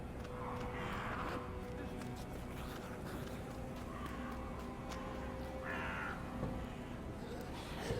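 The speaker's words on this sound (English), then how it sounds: "I hear Raven." A raven in the Secret World Legends video game gives about three hoarse caws spread several seconds apart, moderately distant, over a steady low ambient background with faint footsteps.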